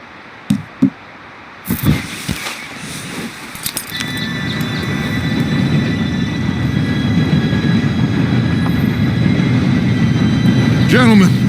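Steam train arriving in the Western open-world game Red Dead Redemption 2, a rumbling roar that swells steadily and grows loud, with a high whistle near the end, after a few horse hoof thuds and clatters.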